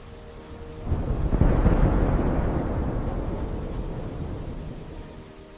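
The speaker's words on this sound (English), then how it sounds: "The storm slowly passed." A deep rumble of thunder rolls in after a moment of quiet and slowly fades, with a steady wash of rain running underneath throughout.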